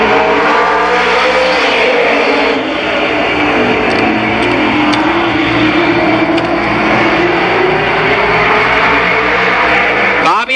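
Big rig race trucks qualifying at Columbus Motor Speedway in 1991, four trucks roaring around the oval in a sustained loud engine drone with shifting pitch as they pass, under a commentator's voice.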